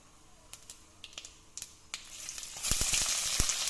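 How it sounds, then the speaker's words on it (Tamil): Onions drop into hot oil with cumin, a few faint taps giving way to a sudden, swelling close-up sizzle in the final second. "சீரகம் இப்போ வெங்காயத்தை போடுறேன்"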